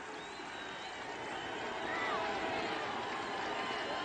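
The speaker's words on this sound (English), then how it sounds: "It's a small crowd, but they're into it already" Small crowd cheering in the stands at a 1993 Colorado vs. Iowa State college football game, a steady broadband roar that swells slightly partway through, with faint voices mixed in.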